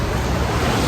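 Dense, rushing roar of strong ocean surf and wind at a beach in Real, Quezon, a brief burst of heavy waves with buffeting wind noise on the microphone.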